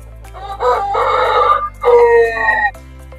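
A Shamo rooster crows twice in close succession, loud and near, each call a drawn-out harmonic cry with faint farmyard sounds around it.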